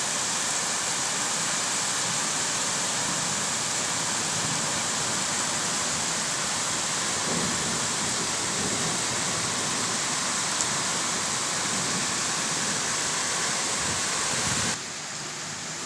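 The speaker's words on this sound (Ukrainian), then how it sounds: "Вот такий дощ." Heavy rain pours down in a dense, constant hiss, loud and unbroken, easing slightly just before the end.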